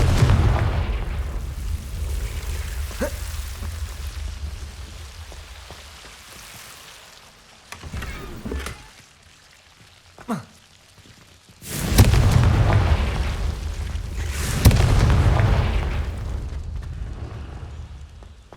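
Confringo blasting spell in Hogwarts Legacy: a few loud, deep booming explosions burst out, two big blasts near the end with smaller pops earlier, against a quieter rumbling game background.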